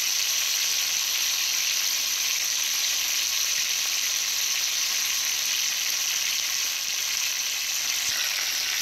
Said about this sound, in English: now I'm going to add some garlic